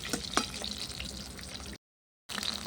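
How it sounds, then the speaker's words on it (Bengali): Whole eggs frying until browned over a clay stove, a steady sizzle with a few sharper crackles, cut off by a brief silence before the sizzling resumes. "ডিমগুলো ভালো করে লাল করে ভেজে নেব।"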